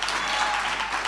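Audience applause for speakers in a lecture hall at a 2018 Friday church conference, a short dense wash of clapping at steady loudness with no voices over it.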